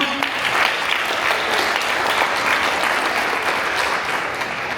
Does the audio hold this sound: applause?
yes